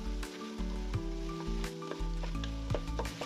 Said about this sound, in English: Add the chopped celery and reduce the heat. Keep stirring for around 3 to 4 minutes.